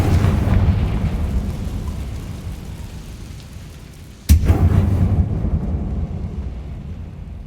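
Confringo fire spell exploding in Hogwarts Legacy: a deep rumbling roar, then a sharp loud crack midway followed by a renewed boom that slowly fades.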